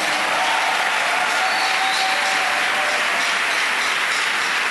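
Church congregation applauding Jesus during a sermon, dense continuous clapping from a large crowd that stays loud and even throughout, with no voices standing out.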